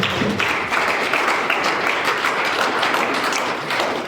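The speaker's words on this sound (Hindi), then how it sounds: "एक बार जोरदार तालियों से स्वागत करता हूं" A crowd claps steadily, a dense patter of many hands applauding at an even level throughout.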